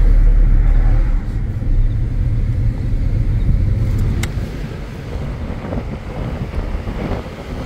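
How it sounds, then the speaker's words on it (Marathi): Car speeding along a mountain ghat road, a steady loud rumble of engine and road noise buffeted by heavy wind noise, easing slightly partway through with no talk. "हेवी ड्रायव्हर आहे, लय फास्ट गाडी चालवते"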